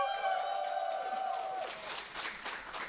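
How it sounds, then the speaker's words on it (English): Audience applause and cheering at the opening of the BSG Annual 2019 event, a dense crowd wash heard over a fading held musical tone. "Are they going to stop clapping?"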